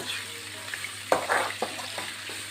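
Onions fry in a pan with salt for a squid and coconut dish, a steady sizzle broken by a few louder scraping stirs and clinks of a utensil, close and short, with no talking.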